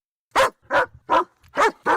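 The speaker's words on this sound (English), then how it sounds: "Hear that? That's Ruby the Diamond Dog at Straps Jewelers in Lincoln." A dog barks five times in a radio advertisement for a jewelry store in Lincoln: sharp, evenly spaced woofs, loud and close, with nothing else behind them.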